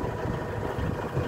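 A BTX D70 seven-ton forklift's turbocharged diesel engine idles nearby, a steady low rumbling drone with even vibration throughout and no voices over it.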